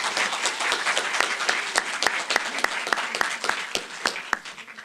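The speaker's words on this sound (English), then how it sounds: "If we could just give another round of applause to all of our youth who presented tonight" An audience at a 4-H public speaking contest gives a round of applause for the youth presenters: close, crisp individual claps over a denser wash of clapping, steady throughout.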